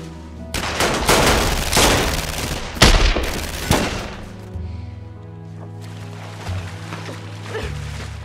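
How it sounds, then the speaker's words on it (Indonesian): Gunfire erupts in a gangster film scene as a member of the MS-13 gang circle is shot, loud dense bursts of shots and impacts clustering in the first few seconds, then fading into a lower rumbling backdrop. "Tanpa diduga, Smiley muncul dan dia menembak Casper."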